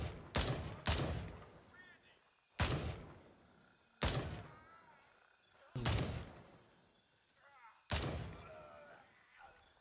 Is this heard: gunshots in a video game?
yes